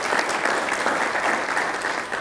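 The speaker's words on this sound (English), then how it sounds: "Please give him a round of applause." An audience applauds a speaker at a Pennsylvania event, dense sustained clapping from a crowd, fairly close and even throughout the short burst, with no voices over it.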